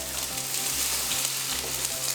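Onions fry in oil and butter in a pan, a steady close sizzle with soft crackles throughout, alongside a low background hum.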